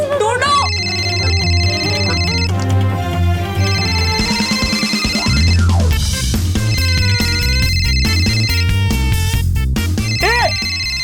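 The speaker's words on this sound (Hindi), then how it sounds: "तुम्हारा ही फोन बजता है सबसे ज्यादा" A mobile phone rings with a loud, repeating electronic melody in bright tones, looping several times close by, with voices heard around it.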